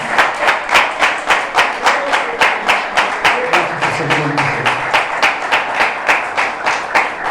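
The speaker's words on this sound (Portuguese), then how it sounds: "Você pode dar uma salva de palmas para Ele?" A church congregation claps hands in unison at a worship service, a strong regular beat of sharp claps repeating steadily throughout, close and loud, with a faint voice underneath at moments.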